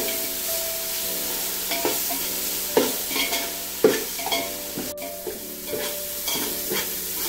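Ginger garlic paste with turmeric and salt sizzles in hot oil in a pan for chicken pulao, with a steady hiss under repeated scraping strokes of a stirring spoon.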